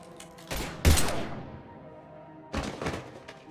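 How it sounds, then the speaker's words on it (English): Gunfire in the video game Mass Effect 3: two loud, close bursts of shots roughly two seconds apart, each with a booming low thud that trails off, with no talk over them. "Now open fire!"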